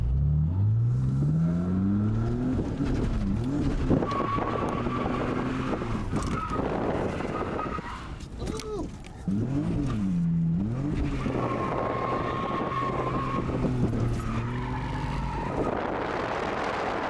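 A BMW E46 wagon drifts with its engine revving hard, rising and falling through repeated throttle bursts, while the tires squeal loudly in long stretches, close and continuous.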